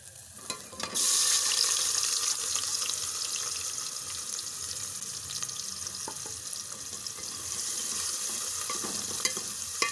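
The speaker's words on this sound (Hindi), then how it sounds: "अब इसमें हम डाल देंगे ये प्याज।" Chopped onions drop into hot ghee and break into a sudden loud sizzle that then settles into a steady frying hiss, with occasional stirring clicks and no voices.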